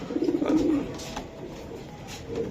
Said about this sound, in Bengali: দেখেন কবুতর দেখেন ভাই